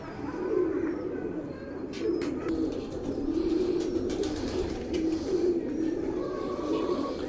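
Breeder pigeons coo in low, rolling, continuous calls close by, with occasional higher chirps and scattered knocks in the background.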